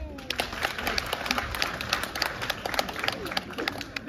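Applause from a theatre audience at a crosstalk comedy evening performance, a dense steady patter of many hands clapping throughout, with crowd murmur underneath.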